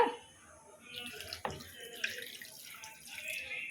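Water poured over chicken pieces in a cooking pot for boiling, a short splashy pour with a sharp splash midway, then a softer trickle at close range.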